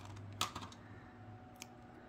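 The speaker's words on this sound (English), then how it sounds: "Little tape runner on there." Quick dry clicks and a short scraping pull as a tape runner presses adhesive onto a paper leaf for a scrapbook page, close and faint, with two sharper snaps and no talking.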